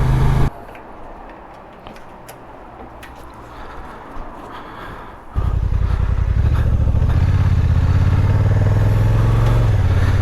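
A Honda NT1100 motorcycle idles with clatter and faint rattles, then pulls away as the engine rises into a loud, steady riding drone with wind noise.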